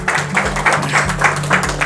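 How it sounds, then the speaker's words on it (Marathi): An audience applauds a prize winner at a library event in Amravati, steady clapping heard under a loud rhythmic music track with heavy bass pulses. "कृपया टाळ्या होऊ द्या मित्रांनो"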